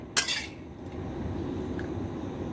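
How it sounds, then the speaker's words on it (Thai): Shrimp koi salad scooped onto plates for serving, with one sharp clink of a utensil against a dish followed by soft scraping and faint clatter. "เรามาตักเสิร์ฟกันเลยค่ะ ตักเสิร์ฟนะคะ"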